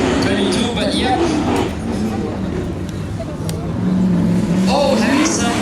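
A drift car engine screams at the King of Drift Asia 2015 event, a high, wavering whine rising and falling over crowd noise while a commentator talks over it.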